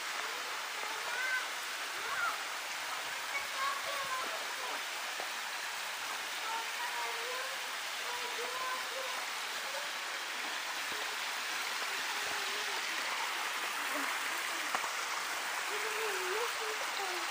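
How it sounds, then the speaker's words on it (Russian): Constant rushing of falling water at a waterfall near Lazarevskoye, Russia, a broad steady roar with faint higher tones drifting over it. "И вот мы подошли к водопаду прохладный"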